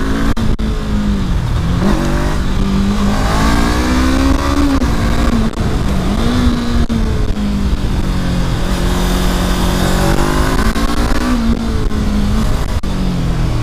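A Honda CB 500 motorcycle accelerates hard into a wheelie on the road, its engine note rising and falling in loud, sustained revving sweeps with steady wind rush.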